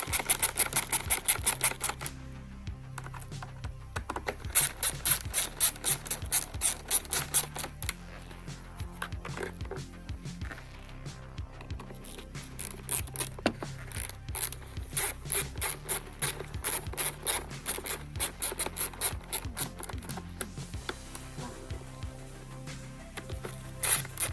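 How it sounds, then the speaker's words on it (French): Small screws are run in by hand on the oil filter housing of a Golf GTI TCR during an oil change, with fast, close ratcheting clicks in bursts and short pauses. "les vis là, je ne les serre pas, je les visse juste"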